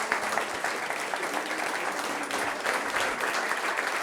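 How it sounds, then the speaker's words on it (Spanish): A lecture audience breaks into steady applause, a dense, even patter of many hands clapping at a moderate distance. "Vamos a dar un aplauso."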